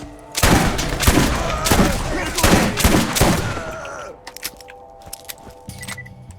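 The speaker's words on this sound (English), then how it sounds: "Torgue shotguns have always been awesome." Rapid bursts of heavy Torgue shotgun blasts in a first-person shooter game, loud and dense for several seconds before tapering into scattered thumps and clicks.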